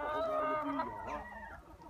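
Chickens cluck and squawk close by for about two seconds, a busy barnyard chorus with no talking.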